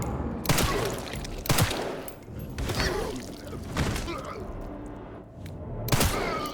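Gunfire in the survival horror game Resident Evil Requiem: several loud, sharp shots spaced about a second apart over a dense game soundscape of thuds and mechanical clatter, with no talking.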